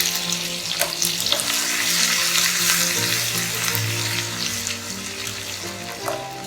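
Ginger and garlic sizzling in hot oil in a pan with cumin for Punjabi chole, a steady crackling fry with occasional stirring clinks and scrapes.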